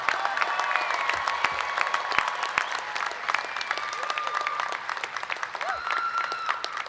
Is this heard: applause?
yes